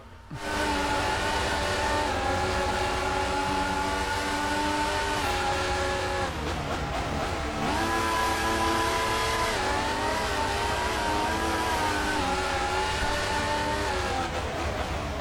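F4 race cars in a racing video game roar around the track, engines whining at high revs, dipping as they shift gears and climbing again, a continuous loud mix of several cars throughout.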